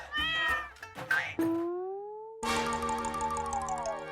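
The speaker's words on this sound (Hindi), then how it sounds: "बिल्ली की आवाज?" A cat meows with a drawn-out, rising tone, followed by a burst of brighter sustained sound; loud and close.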